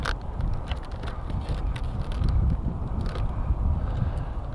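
Gusty wind at an RC flying field buffets the microphone with a steady low rumble and roar throughout, fairly loud, with a few faint mechanical clicks and no voices.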